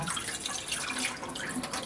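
Rinse water is poured off a batch of sprouting mung beans, a short steady splash and trickle of draining water, close and fairly quiet.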